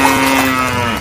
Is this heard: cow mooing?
yes